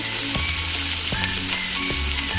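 Okra (vendakkai) fries in peanut oil in a pan with a continuous crackling sizzle, broken by a few sharp pops and stirring scrapes, close and steady throughout.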